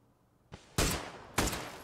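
Gunshots in an online shooter game: a faint pop, then two loud, sharp shots about half a second apart, each ringing out with a decaying tail over a quiet background.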